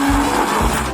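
A blender runs steadily for a moment, mixing a scoop of ice cream with a little mustard, its motor whirring loud and close with no talk over it.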